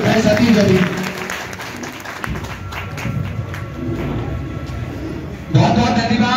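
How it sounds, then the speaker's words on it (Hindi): Loud applause from an audience at a Hindi devotional gathering, a sustained clatter of clapping mixed with crowd noise and voices, dropping briefly then swelling again near the end. "बहुत बहुत धन्यवाद शोरदार तालियां"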